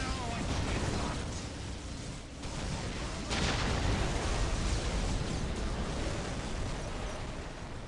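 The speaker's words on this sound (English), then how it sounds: "I'm just enjoying the explosions." Continuous heavy booming and rumbling blasts from the video game Dawn of War: Winter Assault, dense and loud, with overlapping explosions swelling and fading without pause.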